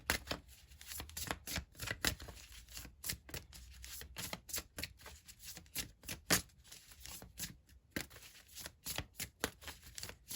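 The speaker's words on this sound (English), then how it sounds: "These are like my favorite cards to shuffle." Tarot cards shuffled up close, a series of sharp riffles and taps coming in quick bursts, clear and alone in a quiet room.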